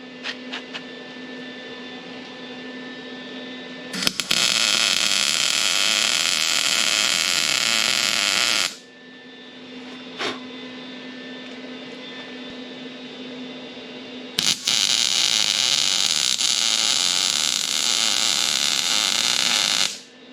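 A trailer fender bracket being MIG welded on a hot setting, two long bursts of harsh buzzing crackle with quieter humming gaps between them.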